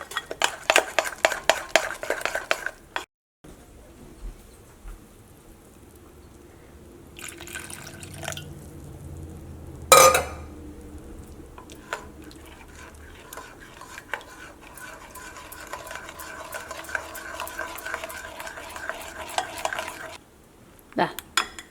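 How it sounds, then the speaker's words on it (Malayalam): Wheat and rice flour batter being whisked with water in a bowl, a steady wet stirring with utensil clinks against the pot. Close and continuous over about twenty seconds, with one sharp metallic knock partway through. "നമുക്ക് സെപ്പറേറ്റ് അതനുസരിച്ചിട്ട് വെള്ളം ചേർത്തിട്ട് മിക്സ് ചെയ്തിട്ട് എടുക്കാം"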